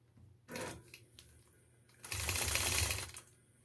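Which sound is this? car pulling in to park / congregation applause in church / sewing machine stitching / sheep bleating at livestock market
sewing machine stitching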